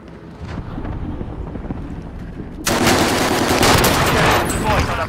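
Heavy gunfire from the video game Warzone: a low, rumbling battle backdrop suddenly erupts into loud, sustained automatic fire that continues without a break to the end.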